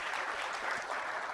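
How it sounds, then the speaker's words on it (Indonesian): Church congregation clapping during a Sunday service, a steady, moderately quiet wash of applause lasting a brief moment. "Kasih tepuk tangan buat mereka dong."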